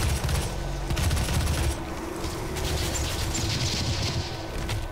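Micro missiles firing in the video game DOOM, a rapid fusillade of sharp bursts and crackling blasts, loud and dense at first, then a rougher rumbling barrage with scattered impacts.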